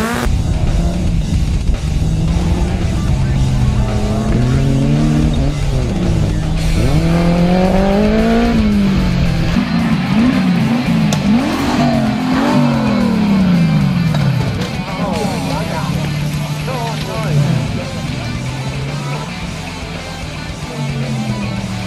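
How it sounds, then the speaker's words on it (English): A 1300 Suzuki Sportsman race car, number 392, runs nearby with its engine revving and pitch rising and falling repeatedly, loud and continuous, with a voice faintly mixed in. "It's a 1300 Suzuki and Sportsman, number 392, and my Navigator Rihanna."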